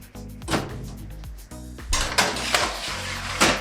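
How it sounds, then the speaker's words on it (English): Metal tray of cut potato fries for whole-food plant-based nacho fries going into an oven, with several clattering metallic clanks and knocks of the pan against the rack, close and fairly loud, no talking. "we're popping these in the oven"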